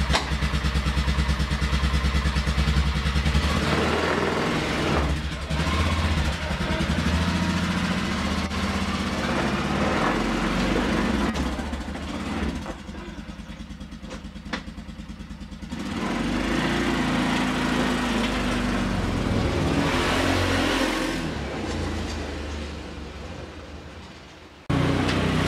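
A Polaris Big Boss 6x6 ATV runs and drives with a loud, rumbling engine close by, rising and falling as it revs and moves, dipping in the middle before picking up again.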